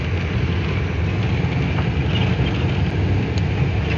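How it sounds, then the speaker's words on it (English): A loud truck engine rumbles steadily while driving, a thick low drone with a constant mechanical hum and no voices over it. "Yeah, my truck is loud."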